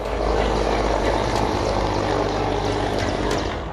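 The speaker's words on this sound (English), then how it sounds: "The chopper can be seen and heard roaring overhead" A military helicopter flies low over the Nilgiris mountains, its loud, steady rotor and engine roar filling the whole stretch without a break.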